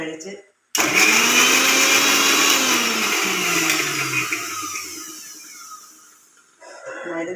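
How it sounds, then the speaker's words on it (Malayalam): Kitchen mixer grinder crushing small onions, whirring loudly in one steady run that slowly dips in pitch and eases off before stopping, then a short restart at the end. "കുറച്ച് കൊച്ചുള്ളി മിക്സിയിലിട്ട് ഒന്ന് ചതയ്ക്കാൻ പോവുക."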